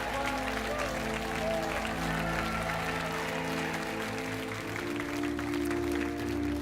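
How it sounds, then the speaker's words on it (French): Steady applause from a TV game show studio audience, a dense even wash of clapping that holds at a constant moderate level throughout without voices on top. "Sous les applaudissements."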